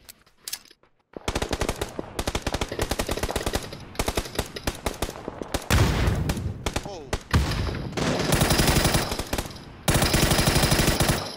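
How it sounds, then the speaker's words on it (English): Loud automatic gunfire in the battle royale game PUBG, with rapid bursts and longer sustained strings of shots separated by brief pauses, mixed with occasional voices. "Somebody else shooting at us."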